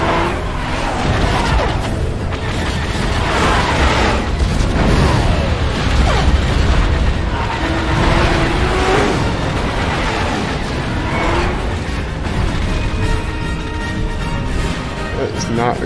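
Fire and explosions in the Star Wars Knight of the Old Republic video game form a dense, continuous roar of game combat with booms and crackling, loud throughout, with someone talking over it.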